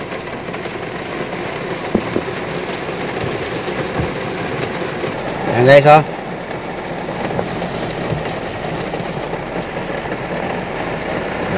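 Heavy rain pours steadily near a river in a flood-prone area, a broad continuous wash with a brief louder surge midway; someone speaks briefly over it.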